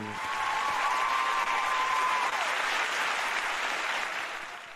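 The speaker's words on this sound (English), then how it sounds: "Please give another thunderous round of applause to our Mother Moon." Sustained applause from a large festival audience fills the whole stretch, loud and even throughout, then fading slightly at the end, with a brief tonal sound in the background.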